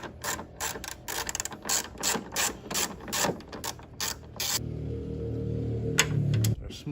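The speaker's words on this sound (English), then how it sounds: "There's 4 bolts that hold that headlight in. All right, we'll start by taking this one off here." A ratchet on a headlight bolt of a Nissan Titan makes a run of close, rapid clicking strokes for about four seconds, then fades into a steady low hum with a few faint taps.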